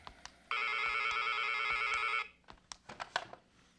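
A telephone rings in an audio drama scene, one long continuous electronic bell burst of about two seconds, close and clear, followed by faint clicks and handling noises.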